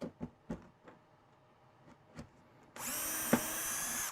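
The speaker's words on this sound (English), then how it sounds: "Drill the hole all the way through." Power drill drilling a 3mm hole through a workbench, a few soft knocks and taps first, then a loud sustained high whine as the drill runs steadily to the end, with a brief clunk partway through.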